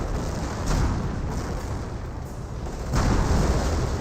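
Artillery barrage from a Company of Heroes 1 match, a dense continuous rumble of overlapping explosions and booms that swells louder near the end, close and heavy, with no voice.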